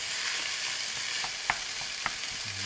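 Lamb for a hotpot browns in a stock pot on the hob, giving a steady, close frying sizzle with a couple of soft clinks from stirring.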